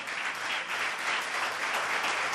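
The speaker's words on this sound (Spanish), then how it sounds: "Dale un fuerte aplauso." Steady, loud applause fills a church service, a dense even wash of many hands clapping without a break.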